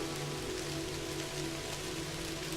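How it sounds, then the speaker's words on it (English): Steady rain falls in the video game Kathy Rain, a continuous even hiss of drops on surfaces with a faint low hum underneath and no voices. "It's funny how it's sunny and yet it's still raining."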